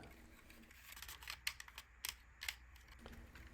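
Excess carbon support material for a LW-PLA-HT model aircraft build is cut off in a few short, sharp snips and clicks close by, set against a quiet room background.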